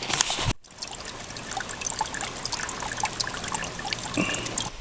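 Water trickles steadily near an Appalachian Trail shelter, a continuous close, moderate outdoor gurgle with occasional small splashes.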